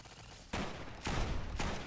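Automated turret gunfire in Fallout New Vegas comes as three loud, sharp bursts spaced about half a second apart over low background noise.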